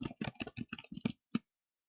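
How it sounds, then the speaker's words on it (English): Brisk keystrokes on a computer keyboard as a name is typed, about eight close, crisp clicks in a quick run followed by a short pause and one final tap. "I'm going to type my name again."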